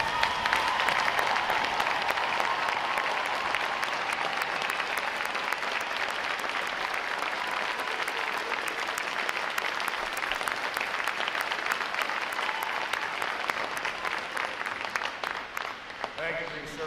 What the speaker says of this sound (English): Would all our veterans please stand so we can give you a round of applause?